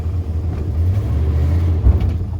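A 1978 Dodge D-200 pickup's engine rumbles low and steady close by as the truck pulls away, a deep throaty drone with a brief louder surge near the end.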